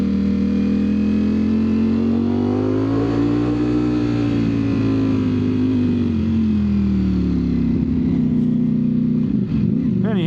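A 2025 Ducati Streetfighter V4S being ridden, its V4 engine droning loud and steady with the pitch swelling and easing as the rider rolls on and off the throttle, wind noise rushing throughout.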